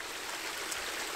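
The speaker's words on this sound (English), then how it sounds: "let's be honest, it's a little bit of a trickle, isn't it?" A small trickling waterfall gives off a steady, close, uniform rush of splashing water, unbroken and fairly loud for the brief moment.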